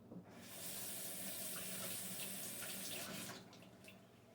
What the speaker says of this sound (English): So I'm going to rinse this off.